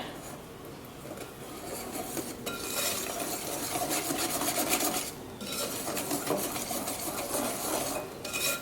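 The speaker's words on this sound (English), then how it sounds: "I'm gonna mix this in." Dark caramel sauce is stirred into a butter mixture for a vegan gingerbread, a steady rasping, scraping sound of a utensil working around a bowl, with brief pauses between bursts.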